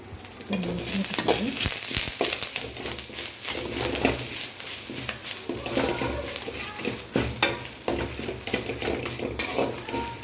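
Leaves crackle and sizzle in hot oil while a spoon stirs and clinks against the pan, a busy, continuous frying sound close by.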